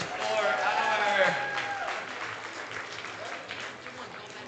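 Clapping from the audience at a regional powerlifting championship, a steady wash of applause and crowd noise that slowly fades, with voices mixed in.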